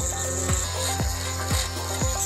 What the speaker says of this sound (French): Prenez alors une perceuse fine et commencez à scier les cylindres.